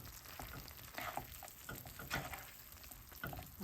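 Teriyaki sauce sizzles and crackles in a hot pan, a steady close frying hiss with brief bursts as it is stirred, no talking.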